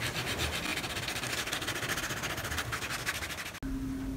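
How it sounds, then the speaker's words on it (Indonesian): Steady, harsh rasping of a sandpaper roll, 60 grit, scraping over wood, continuous and loud for several seconds before stopping abruptly, leaving a faint hum. "kalian amplas menggunakan amplas seperti ini ya, amplas roll itu."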